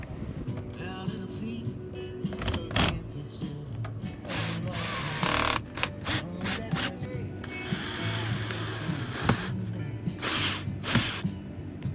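A power drill screws cross beams into a wooden van bed frame, with repeated short whirring bursts, some sharp knocks and scraping, close and fairly loud.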